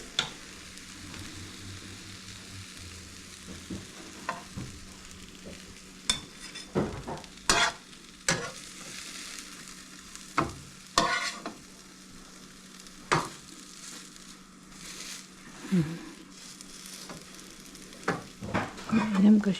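Eggplant omelette frying in a pan, with a steady sizzle punctuated by frequent sharp clinks and scrapes of a utensil stirring, close and fairly loud, no talking.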